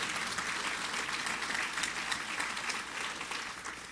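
Steady, dense audience applause fills the room at a constant level, a continuous wash of many hands clapping at a public committee meeting with no pauses.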